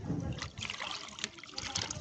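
Water pours into a bucket with a quiet, uneven trickle and light splashing that rises and falls in small surges throughout.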